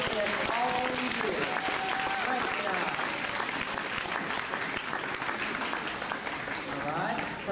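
Steady applause from a large crowd at a first grade graduation fills the whole stretch, loud and continuous, with a few voices mixed in underneath.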